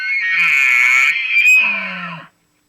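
A bull elk bugles in New Mexico brush, letting out a single high, wavering whistle that slides and breaks, then ends in lower grunting. The call carries loud and clear with nothing else around it.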